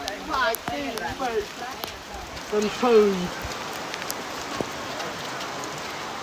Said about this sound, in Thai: ตากฝนเลยแข่งฝน ลำบากพี่ลึกพี่โล แข่งฝนเลยทุกคนเลย แข่งฝน